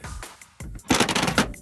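A metal caravan step rattles in bursts, a few separate knocks first, then a louder, denser run of clanks near the end.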